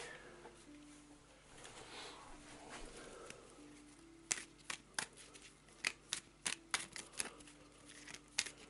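Event cards from the board game A Touch of Evil are shuffled by hand: after a quiet stretch of soft rustling comes a run of about a dozen sharp, evenly spaced card snaps, close and crisp.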